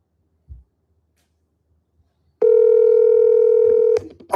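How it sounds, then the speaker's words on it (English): A telephone line tone sounds for about a second and a half after a faint click, one steady loud electronic tone that cuts off abruptly, followed by a brief blip. "The phone is ringing."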